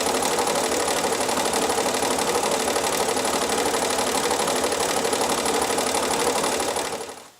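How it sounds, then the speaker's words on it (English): A sewing machine stitches a row of crochet-look edging in one continuous, loud, close whirring run with a fast mechanical pulse, stopping abruptly at the end. "I'm just going to stitch the next row of stitching."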